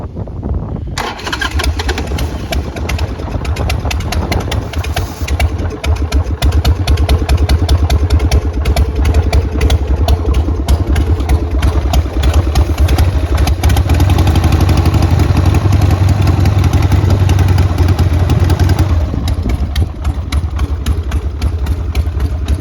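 A 1999 Harley-Davidson XL 1200 Sportster engine with a suspected carburetor blockage fires up after a moment of quiet and settles into a loud, steady idle with a rough, throbbing rumble that carries on throughout.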